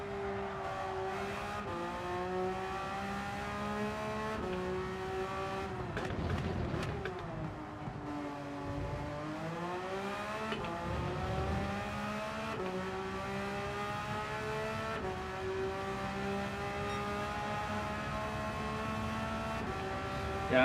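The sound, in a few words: Porsche race car driving in Gran Turismo 7 video game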